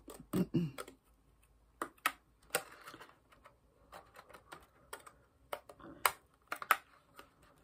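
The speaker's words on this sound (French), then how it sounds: "Le tout, c'est d'aller droit avec ces ciseaux cranteurs." Irregular crisp snips and crunches of pinking shears cutting through paper for a postcard, close and quiet, coming in short bursts with pauses between.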